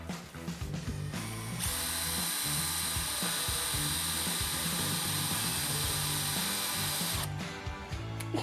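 A power drill runs backwards to cut through gel coat on a Yamaha R1 fitted with Mazda MX-5 running gear, whirring loud and steady up close for about six seconds between brief clicks and handling knocks.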